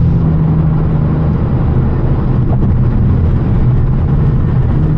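A battery-powered car drives through rain, with a steady broadband rumble of tyres and rain spray that stays loud and constant throughout, no talk over it.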